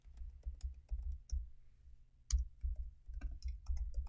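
Soft, fast keystrokes on a computer keyboard in a quiet room, clicks and thuds tapping in uneven bursts, with a brief pause before typing resumes.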